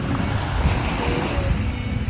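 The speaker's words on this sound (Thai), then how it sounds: "บรรยากาศที่หาดและคลื่นค่ะ" Ocean waves wash onto a beach at sunset in a steady, continuous roar of surf, blended with wind rumble on the microphone and no clear individual breakers standing out.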